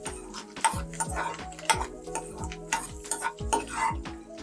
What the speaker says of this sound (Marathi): हे बघा, हे अशा पद्धतीने आपल्याला तेल आणि बटर मध्ये सगळं परतून घ्यायचंय।